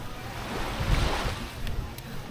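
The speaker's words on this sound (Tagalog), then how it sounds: "pero lakas ng hangin eh" Strong wind buffets the microphone over a broad, steady roar of sea and surf at El Nido, Palawan, Philippines, continuous and fairly loud throughout.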